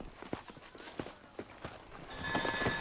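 Horse hooves clip-clop at a walking pace in the Red Dead Redemption video game, several distinct close thuds in an uneven rhythm, with the sound growing louder near the end.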